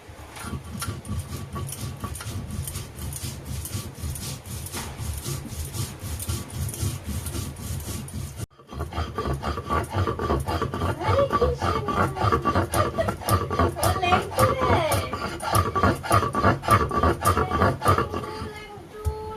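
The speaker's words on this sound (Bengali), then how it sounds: "এই পাশে আমি মশলাটা বেটে নিচ্ছি" Spices are ground by hand on a grinding stone with steady, rhythmic rubbing strokes, close and continuous, growing louder and busier after a short break.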